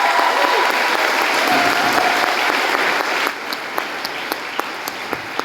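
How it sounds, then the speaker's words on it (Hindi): A hotel banquet audience in Kolkata rises for a standing ovation, dense steady clapping filling the room for about three seconds before thinning into scattered, sharper individual claps. "एक जोरदार ताली होना चाहिए, वो भी खड़े होके"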